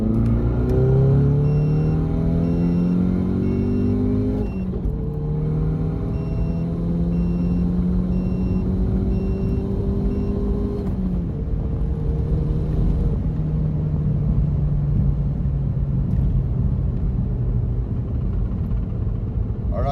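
A VW Golf GTI MK7 engine pulls hard through the gears, each rising rev climbing toward 6,000 RPM before a shift drops the pitch, loud and continuous from inside the car.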